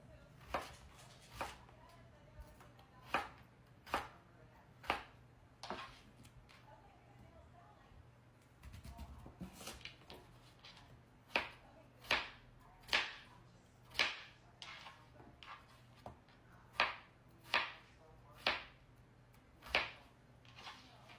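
A knife slices through food being prepared for a holiday dinner, cutting fairly thick pieces. There are about twenty crisp, evenly paced chops, close and clear, with a short pause partway through.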